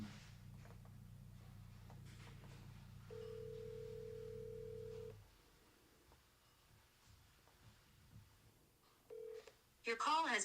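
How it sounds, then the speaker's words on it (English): A phone number being dialed, heard as a steady tone of about two seconds, then quiet background with faint rustling, and a brief second tone near the end. Low hum runs under the first part. "Let me call Greg real quick"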